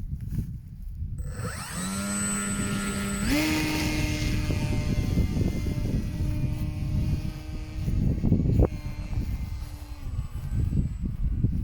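A remote-controlled Wilga model airplane on its first flight, its propeller engine droning steadily and rising in pitch as it takes off and flies nearby, with the whine holding over the whole stretch and distant voices in the background.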